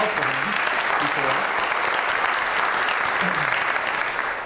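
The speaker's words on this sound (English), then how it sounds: "I didn't hear a lot of applause for him before." Sustained audience applause fills a panel event on economic development in Amherst, a dense, steady wash of clapping with a faint voice or two underneath.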